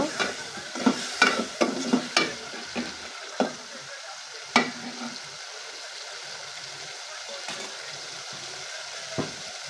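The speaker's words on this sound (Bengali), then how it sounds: "এখন আমি কেটে রাখা চিংড়ি মাছগুলো দিয়ে দেব, দিয়ে একটু নেড়ে চেড়ে নেব" Chopped shrimp are stirred in a pan, several sharp scraping clinks of the spoon coming in a quick cluster at first, then spacing out over a faint low frying hiss.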